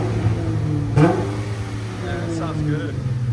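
A 2019 Dodge Challenger SXT with a 3.6L V6 and glass pack exhaust gives a sharp rev close by, then idles with a rumbling burble while people chat over it.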